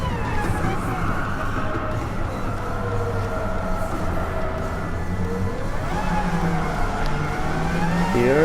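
A tuned Suzuki Escudo race car engine in Gran Turismo 7 drones loud and steady for several seconds, pitch shifting as it accelerates and changes gears, with no voices over it.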